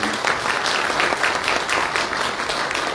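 Audience applause at the Poraj Art Session "I Love Folk" folk art event in Poraj, a dense, steady clapping from a sizeable crowd lasting a few seconds with no talk.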